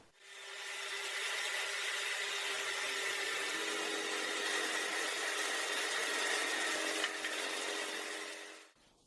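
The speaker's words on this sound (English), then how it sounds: "you can cut out the bottom using an electric jigsaw" An electric jigsaw cuts out the bottom of a wooden whiskey barrel, a steady loud buzzing rasp running unbroken for about nine seconds up close, then stopping abruptly.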